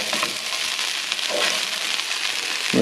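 Rice stirred through a hot frying pan, giving a steady crackling sizzle with soft scraping stirs and a louder scrape at the end.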